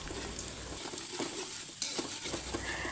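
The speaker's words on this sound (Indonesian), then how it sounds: "tumis bawang merah dan bawang putih hingga harum berwarna" Shallots and garlic sauté in a pan with a continuous close sizzle and occasional stirring scrapes, no voices.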